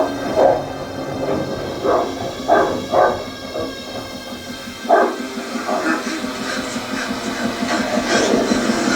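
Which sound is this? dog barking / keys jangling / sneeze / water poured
dog barking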